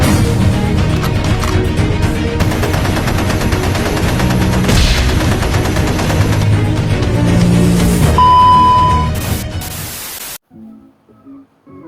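Gunfire from a shooting video game, dense crackling bursts and rapid volleys over loud game music and noise for about ten seconds before cutting to near silence.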